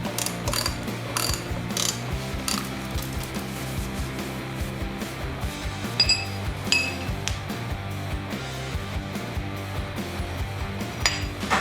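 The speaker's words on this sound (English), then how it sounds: "Let's see if I can get away with tightening this up off the bike." A ratchet wrench tightens the bolts of a new sprocket for a Yamaha FZ-07 motorcycle, working off the bike in a star pattern. Rapid, close metallic clicking runs in repeated bursts, with a few brighter clinks of metal.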